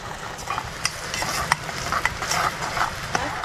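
Peanut chutney goes into a hot cumin tempering in a pan for a fasting meal, giving a steady close sizzle with small crackling pops and light stirring throughout.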